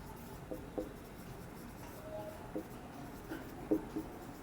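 Pen or marker writing on paper or a board during a maths lesson, faint scratchy strokes coming in short irregular bursts, with no talk.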